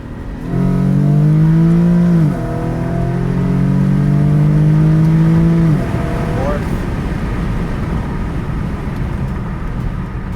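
Infiniti G37 sedan, modified FBO car, accelerating in second gear in manual mode: a loud close engine note rising steadily in pitch, a brief dip at a shift, climbing again, then easing off into road noise.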